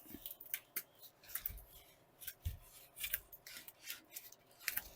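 Scissors snip through sound deadener material being cut to size for a VW Beetle restoration, a series of quiet, close crisp cuts in an uneven rhythm with soft rubbing between them.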